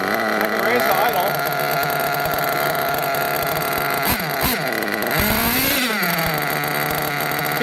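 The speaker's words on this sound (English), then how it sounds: "See, it's idling, even though I richened the low speed 1/2 turn." A small RC nitro engine idling after its low-speed needle was richened, a buzzing, slightly uneven drone with wavering pitch that sags and recovers a few times, close and continuous.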